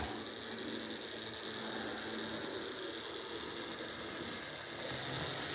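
CMX Clean Machine track cleaning car on a model railway, its small electric motor whirring as a steady, close mechanical drone with a gritty rattle, even throughout with no pauses.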